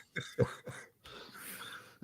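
A few short, muffled coughs close to the mic, followed by a brief throat-clearing rasp.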